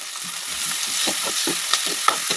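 Tomatoes and onions sauté in a pan for a Nagercoil-style chicken curry, giving a steady close sizzle with soft stirring scrapes and a few small crackles throughout.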